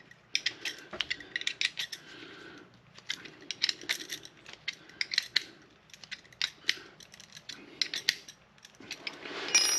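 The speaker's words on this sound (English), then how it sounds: "I will tighten these two down. These are 10mm, by the way." Two 10mm bolts being tightened on a brake pipe flaring block, heard as quick bursts of close metallic clicking and ratcheting in short repeated runs with brief pauses between.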